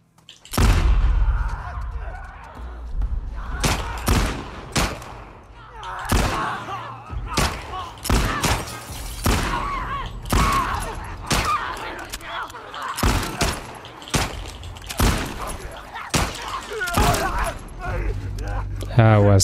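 Gunfire in The Last of Us Part 2 gameplay: a steady run of sharp, loud shots and thuds spaced through the whole stretch, with a voice talking underneath.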